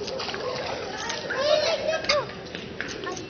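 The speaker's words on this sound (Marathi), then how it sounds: "बघ कसा पाण्यामध्ये खेळतोय." A small child splashes and plays in rainwater, making brief watery splashes mixed in with the child's and adults' chatter.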